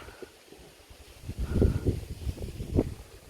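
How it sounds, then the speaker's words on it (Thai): Strong gusty wind outdoors, where a small Chula kite is flown in wind and rain, buffets the microphone with low rumbling surges that build and fade in irregular bursts. "นี่ลมมันแรงลมมันกระโชกนะครับ"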